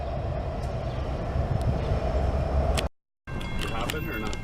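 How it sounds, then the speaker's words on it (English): An intermodal freight train passing: a continuous heavy rumble with rail clatter and wheel noise, loud and close, briefly cut by a gap before resuming. "And there's another intermodal up there."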